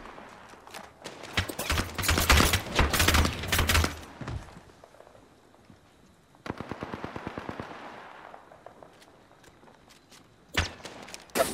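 Bursts of rapid automatic gunfire ring out in a shooter video game, loud close volleys at the start, a quieter stretch, then more shooting and a final sharp burst.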